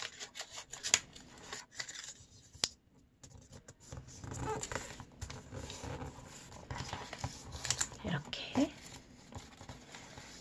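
Colored origami paper is creased and folded into a gift box, with soft rustling, rubbing swishes and a few sharp crisp snaps while someone talks quietly throughout.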